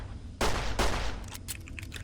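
Two sharp gunshots from the video game Fallout, A Tale of Two Wastelands, fire in quick succession, each loud burst decaying into a short rumble, followed by faint scattered game sounds.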